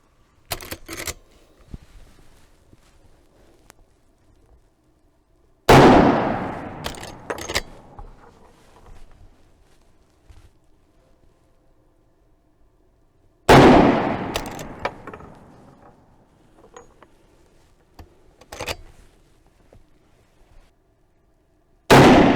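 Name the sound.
gunshots from a 1959 Marlin 336 rifle in 35 Remington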